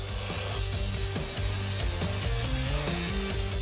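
A track saw cuts wooden stair treads, a steady close sawing and rubbing of blade through wood with shifting pitch, continuous throughout with no talk.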